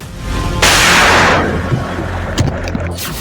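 Blasts set off by cornered Naxal insurgents in the Saranda forest of Jharkhand: one loud broadband boom that rolls and decays over about a second, followed by rumbling and a few faint thuds, with no talk.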